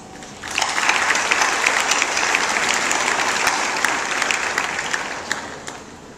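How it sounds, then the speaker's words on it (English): A high school graduation audience gives a sustained round of applause, dense and steady for about six seconds before tapering off at the end, with no talk over it. "Seniors, let's give our loved ones a round of applause."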